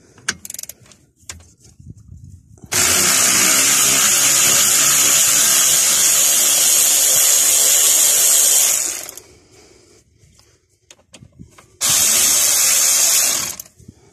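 Bolts on a VW Polo front brake caliper being undone with a 7mm Allen key bit on a power tool, loud sustained whirring bursts of several seconds each, with quieter clinks and handling noises between.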